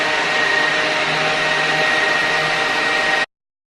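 A hooded salon-style hair dryer runs on high heat, giving a steady, loud broadband whoosh with a faint motor hum that holds evenly for about three seconds before cutting off.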